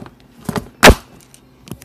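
A door closes with one loud, close thud in the middle, framed by faint rustles and small knocks before and after.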